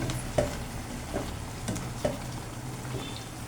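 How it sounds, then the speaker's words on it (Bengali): Hog plum pickle cooking in oil in a pan, a soft continuous sizzle with a few distinct stirring knocks and scrapes spaced about a second apart. "এটাকে আর একটু ভালোভাবে নেড়ে চেড়ে দেবো।"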